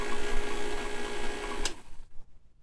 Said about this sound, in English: Turn off the vacuum pump.